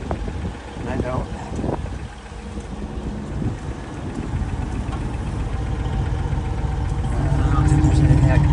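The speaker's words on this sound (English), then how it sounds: "I'm gonna let it warm up for a few minutes here. It's actually running off the gas fuel tank." A 1967 Lincoln V8 idling steadily as it warms up, running off the gas tank, a continuous low rumble with wind buffeting the microphone and swelling slightly toward the end; a voice speaks briefly near the start.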